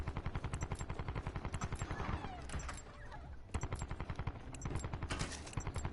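Rapid light machine gun bursts in a Call of Duty battle royale match, loud steady automatic fire with a short pause midway before more sustained strings of shots.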